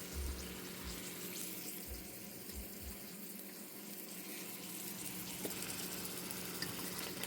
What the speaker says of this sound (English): Just heating it up and browning it a little bit.